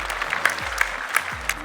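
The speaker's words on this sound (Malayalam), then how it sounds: "അപ്പോൾ നല്ലൊരു കൈയടി അവർക്ക്." Audience applause at a fun travel game show, steady clapping with a few louder accented claps throughout, fairly close and continuous.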